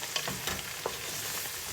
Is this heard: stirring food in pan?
yes